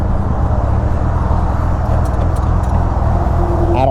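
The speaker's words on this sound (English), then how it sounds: "I don't know why I'm in traffic heading into the city at this time of day." Traffic on the way into the city rumbles steadily around a rider on a Honda Goldwing GL1500, with a loud, close engine and road drone and passing vehicles blending into continuous noise.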